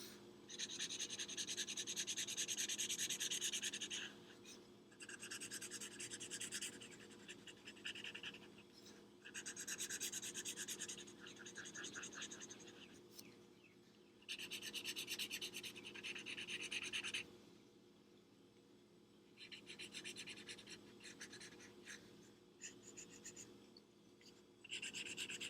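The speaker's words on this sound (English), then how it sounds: "I'm done, officially done with the drawing when I write their name at the bottom, underneath" Pencil scratching across paper as a name is written at the bottom of a finished Mike Wazowski drawing, close and fairly loud, in bursts of quick strokes separated by short pauses.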